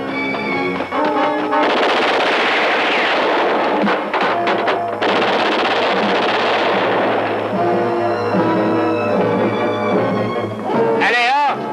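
Loud rapid bursts of machine-gun fire and scattered gunshots ring out in a 1982 French-dubbed action film, with shouting voices mixed in throughout the battle.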